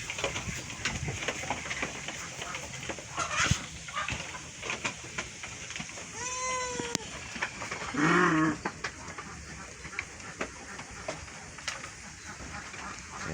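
A couple of Garut-crossbred goats, including a female, bleat, one short call followed by a louder, wavering one, amid faint outdoor background noise and scattered clicks.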